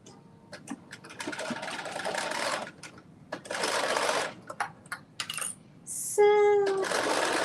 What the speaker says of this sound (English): I'm just gonna finish this with a straight stitch so I can take it out